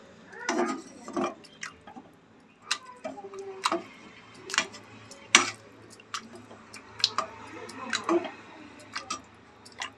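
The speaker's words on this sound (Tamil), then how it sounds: "இப்போ இது வந்து ஒரு ஸ்மாஷர் வச்சு நல்லா வந்து நசுக்கி விட்டுக்கலாம்" A masher crushes cooked potatoes and tomatoes in a pan, making a series of soft, wet squishing and tapping impacts at an uneven rhythm, close and fairly quiet.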